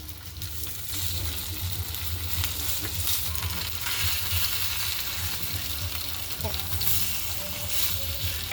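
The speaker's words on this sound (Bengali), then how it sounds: "এখন আমরা বড়াটা তেলে দিচ্ছি।" Drumstick leaf fritters fry in hot oil with a constant close sizzle and bubbling crackle, along with a few faint clinks from stirring.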